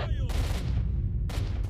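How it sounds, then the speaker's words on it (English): Bursts of gunfire crack out in the Chernobyl zone of S.T.A.L.K.E.R.: Shadow of Chernobyl, loud volleys with a heavy low rumble, several rapid shots at the start and again near the end. "Shooting. I just don't know if they're shooting at me."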